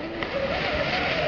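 A brushless RC rock crawler runs in high gear outdoors over bushes and rough ground, giving a steady, near motor whine with rolling terrain noise throughout, no voices.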